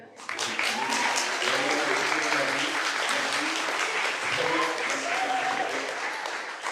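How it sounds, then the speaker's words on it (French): Audience applause at a talk on mental health, a dense, sustained burst of clapping that begins after a brief pause and stays loud, with voices and some whoops mixed in. "applaudir, ça va l'encourager"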